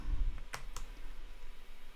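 A few quick clicks of keys on a computer keyboard as numbers are typed, sparse and close, with faint room noise between them.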